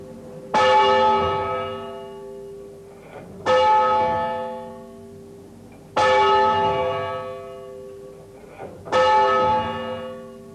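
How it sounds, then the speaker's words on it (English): The largest bell of a church set tolls four times at slow, even intervals, each deep, low, resonant strike ringing out and decaying before the next. "is the biggest bell, and it has a lower sound."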